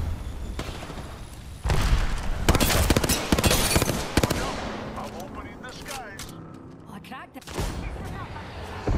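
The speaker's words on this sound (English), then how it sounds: "I'm fucking taking fire." Incoming gunfire during a ranked Apex Legends match: dense, loud bursts of shots and booms arrive in waves over a continuous battle din, with scattered sharp cracks toward the end.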